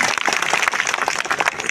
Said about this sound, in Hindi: चलो तालियां।